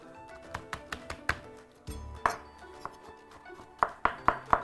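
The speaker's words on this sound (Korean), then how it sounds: "무를 채를 썰어주세요" A knife cuts summer radish into thin matchsticks on a board, with quiet, irregular taps and clicks of the blade, some in quick bursts, heard close and soft.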